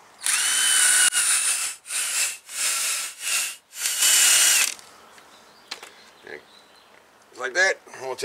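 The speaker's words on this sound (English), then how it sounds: "So we're gonna wire brush that" Power wire brush scrubbing rust off a rear brake part of a 2011 Toyota Highlander, loud harsh whirring in several repeated bursts, then someone talks briefly near the end.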